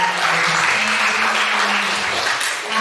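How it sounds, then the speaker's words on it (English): Audience at a high school English debate final claps in a steady, dense burst of applause that fills the room evenly for a few seconds, with a faint voice underneath. "Big applause once again."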